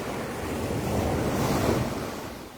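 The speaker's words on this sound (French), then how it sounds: "Regardez les vagues." Ocean waves surge and roll onto an African shore in a continuous rumbling wash, swelling in the middle and mixed with gusty wind buffeting the microphone.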